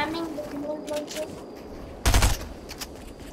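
A grenade launcher in the video game Fortnite fires in a short burst of rapid blasts, heard among scattered game effects.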